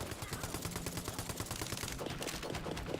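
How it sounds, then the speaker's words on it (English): Rapid gunfire crackles through a firefight in Tiny Tina's Wonderlands, a dense, continuous burst of shots layered over game effects at moderate volume. "Something is shooting."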